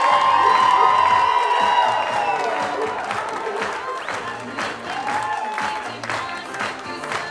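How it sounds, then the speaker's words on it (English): Wedding guests at a country club reception applaud and cheer the newly announced couple, a loud sustained wash of clapping with whoops and crowd voices that gradually eases but keeps going throughout. "Let's give your applause going, Mr. and Mrs. David Ryan Cousineau"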